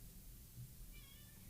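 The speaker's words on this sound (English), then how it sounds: "Why are you just meowing so loud?" A house cat meows loudly in a basement room, one short nasal call that is close but low in level over a noisy background hiss, with no talk.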